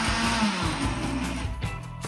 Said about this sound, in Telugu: ఇది వేసి మిక్సీ పెట్టండి.